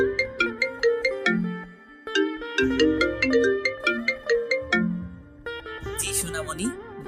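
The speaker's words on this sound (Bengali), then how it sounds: "আর আমিও রুমে এসে আমার ঢ্যাঁড়সকে ফোন করলাম।" A melodic phone ringtone plays loudly and continuously during a call, its tinkling chime notes repeating in bursts for several seconds.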